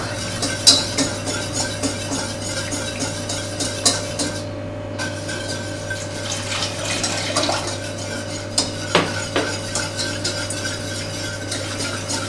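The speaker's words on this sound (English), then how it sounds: "And you want to keep whisking it as well" A whisk works steadily through thick béchamel sauce with Parmesan cheese and egg yolk for Greek pastitsio, with continuous close scraping and light metallic clinks against the pot and no talking.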